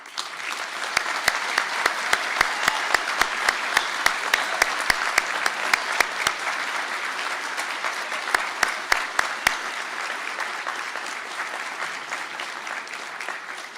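Steady applause from a seated audience at a university conferring ceremony for software and electronic engineering graduates, sustained even clapping across the hall with a few sharp nearer claps standing out, gradually thinning toward the end.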